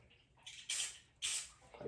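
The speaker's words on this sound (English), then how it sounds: "I'm gonna spray it from like a distance" Clipper spray hisses onto hair clippers during a self haircut in two close, sharp bursts, each lasting about half a second, followed by a softer trailing hiss.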